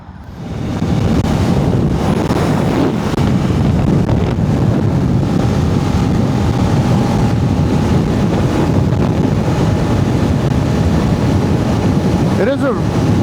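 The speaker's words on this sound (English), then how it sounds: "It is a bit windy today, so I'm feeling the full effects on my helmet right now." Wind buffets a motorcycle helmet and microphone while riding on a windy day, a loud, constant low roar and rumble that holds steady for several seconds after a brief quieter start.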